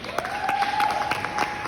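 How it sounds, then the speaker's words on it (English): A short burst of audience applause during a stand-up comedy show, clapping crowd with a faint whistle-like tone running through it. "give yourselves a round of applause"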